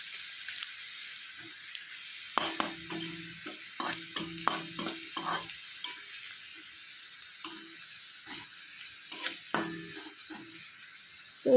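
Garlic fries in hot oil until it turns reddish, a steady high sizzle carrying through while a spoon scrapes and stirs in bursts of clinks and taps, close and moderately loud with no talking.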